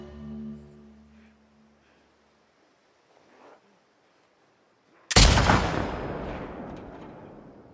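A single loud, close gunshot from a scoped rifle in The Last of Us Part II video game cracks out after near silence, then rolls off in a long echoing tail.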